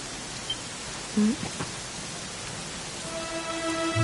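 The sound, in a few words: rain falling in Dragon Quest XI video game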